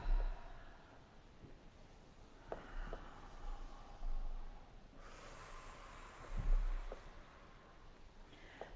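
Slow, deep breathing during a calming yoga class, soft close-up inhales and exhales with a few faint nasal snorts over near silence.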